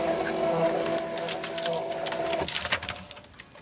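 An electronic cutting machine cuts a paper flower, giving a continuous whirring motor hum with rapid ticking and clicking of the blade carriage, busier toward the end.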